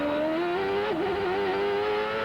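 A CART race car engine heard onboard Bobby Rahal's car at the start of the 1995 Portland round: a loud, steady, high-pitched engine whine that dips briefly and then climbs again, close up and alone.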